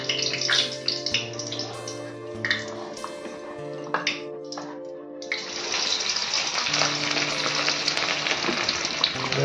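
Fish fry in fully heated oil, giving a steady bright sizzle and crackle with tonal hum running underneath, continuous and close throughout.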